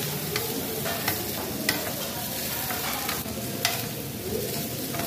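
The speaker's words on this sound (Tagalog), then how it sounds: "Your mommy is still cooking." A mother cooking food in a pan at home, giving a steady close sizzle with the occasional scrape and clatter of stirring, heard alone without talk.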